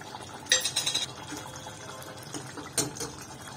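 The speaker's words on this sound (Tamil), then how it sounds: "இப்போ நம்ம ஹனி ஊற்றிடலாம்" Honey poured from a ladle into chicken sukka fry in a pan over a medium flame, a brief wet splashing pour followed by a second shorter one, close and fairly loud.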